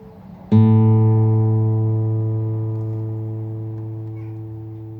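A guitar string and a tuning fork sound together at the same pitch, one sharp attack followed by a long, steady, slowly fading sustained tone, close and alone.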